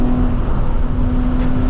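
A Nissan 350Z pulls hard on a freeway, its engine droning loud and close at a steady high pitch under rushing road and wind noise, with no talking.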